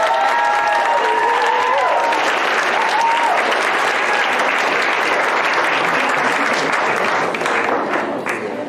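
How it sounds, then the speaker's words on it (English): A crowd at a Pride Day event applauds activists and advocates, loud sustained clapping with some cheering that holds steady and tails off slightly at the end. "let's give them a round of applause right now"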